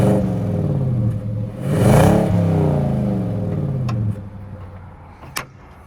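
A naturally aspirated 5.6 liter Endurance V8 truck engine revs up sharply to a loud peak, falls back to idle, then settles lower with a brief clunk near the end.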